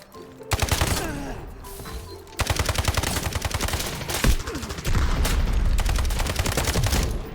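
Rifle gunfire in a firefight in the video game Delta Force, with dense bursts of rapid automatic shots and brief pauses between volleys, loud and close with no talking.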